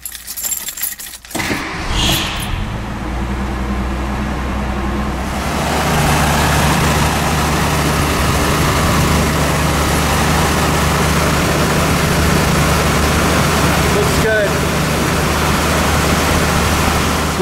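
A 1979 Ford Fairmont's straight-six engine runs close by after a brief jingle of keys, settling into a steady, dense idle that continues evenly throughout.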